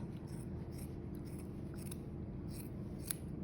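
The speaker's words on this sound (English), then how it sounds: "I take my scissors and I'm gonna cut all those loops" Scissors snip through yarn loops to form a knitted pom-pom, a quiet series of short crisp cuts and scrapes close up, ending with one sharper snip.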